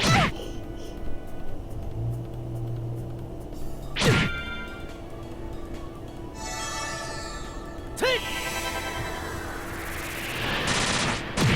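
An airstrike attack in the game Trails in the Sky, built from sharp impact whacks and crashing bursts at intervals, with sweeping swooshes and bright ringing effects over a steady game backdrop.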